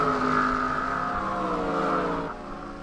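Race car engine in a racing video game drones at high revs with a steady harmonic whine that shifts pitch slightly, then drops in level near the end, with no talk.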